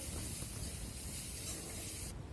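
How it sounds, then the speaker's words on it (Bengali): Semolina and freshly grated coconut lightly frying in a pan, a steady soft hiss that runs close and even, then cuts out abruptly near the end. "নারকেলটা দিয়ে একটু হালকাভাবে ভেজে নেব।"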